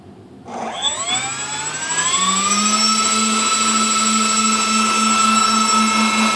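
Electric ducted fans on a model Airbus A380 spin up from idle into a loud, rising whine that climbs in pitch and then holds a steady, even howl.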